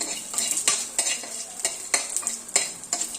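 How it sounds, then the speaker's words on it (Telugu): Ingredients for biryani frying in ghee while a spoon stirs them in a metal pan, rhythmic scraping knocks roughly every half second over a steady close sizzle. "ఈ నెయ్యి వేసి వీటిని బాగా ఫ్రై చేస్తున్నాను."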